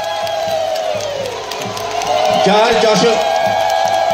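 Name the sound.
applause and cheering welcoming the chief minister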